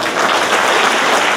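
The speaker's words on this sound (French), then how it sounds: "Vous pouvez les applaudir à nouveau" A festival audience gives a dense, loud burst of sustained applause, a full wash of many hands clapping without gaps.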